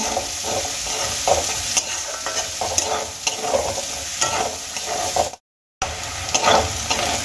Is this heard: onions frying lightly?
yes